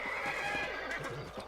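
A horse in the western video game Red Dead Redemption gives a clear, shrill neigh that rises and wavers, followed by a softer snort and faint hoof clops, heard alone at moderate loudness.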